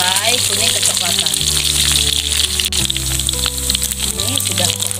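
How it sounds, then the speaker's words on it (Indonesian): Loud, steady sizzle of chicken frying in hot oil until golden brown, crackling continuously with a low background hum and no voices. "Ayam kita goreng sampai kuning kecoklatan."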